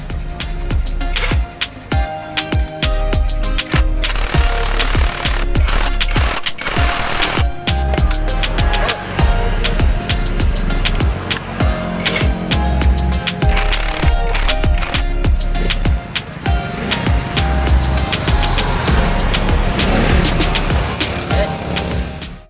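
A Honda Beat scooter being kick-started after its kick starter was tightened, loud close mechanical clatter and repeated kicks merging into a running engine with rattling throughout.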